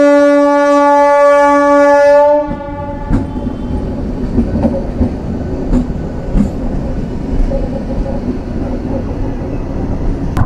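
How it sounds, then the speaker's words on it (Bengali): A train sounds a long horn blast near a rural railway crossing in Purulia, then passes close by with a steady rumble and clickety-clack of wheels over the rails for several seconds. "ট্রেন আসবে এখন।"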